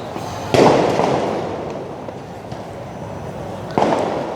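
Two sharp booming tear gas launcher shots about three seconds apart, each followed by a rushing hiss, heard outdoors at night against a low crowd rumble outside a police headquarters gate in Jakarta.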